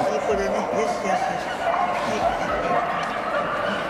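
A dog at a dog show gives soft yips and whimpering barks, close and steady beneath a person's gentle continuous talk, with a busy indoor hum behind.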